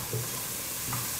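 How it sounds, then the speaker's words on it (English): Onions in a pot of butternut squash and pumpkin soup being stirred, a steady wet sizzle with soft scraping pulses as the spoon sweeps the bottom, close and continuous without voices. "Just keep stirring the pot so nothing burns on the bottom"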